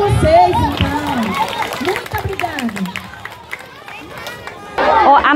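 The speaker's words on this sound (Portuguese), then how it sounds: "Uma salva de palmas para vocês, então." A school folklore-day audience in Marabá, Brazil, applauds and cheers, clapping mixed with loud crowd chatter and children's voices throughout, swelling again near the end.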